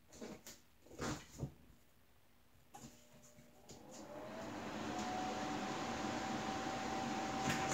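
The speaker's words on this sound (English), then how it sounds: "the whirring sound you hear is me turning on the air conditioning" An air conditioning unit in a warm house switches on after a few clicks and knocks, then settles into a steady, loud whirring hum with a faint tone that fills the rest of the clip.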